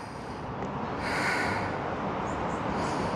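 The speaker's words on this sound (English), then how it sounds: "And breathe deeply, especially if you're really tight." Slow, deep nasal breathing during a yoga hip stretch, a soft close airy rush that swells in a long breath and fades.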